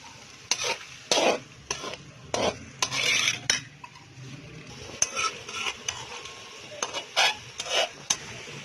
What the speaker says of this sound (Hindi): जो 10 मिनट और भूनेंगे। सब्जियां अच्छी तरह गल जाएंगी।